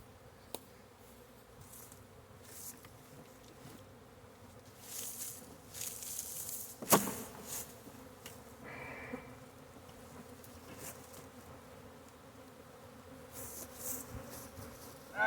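Honey bees from a swarm buzz around hive boxes, a soft continuous drone of many wings with individual bees passing close now and then and a few faint knocks, no voices.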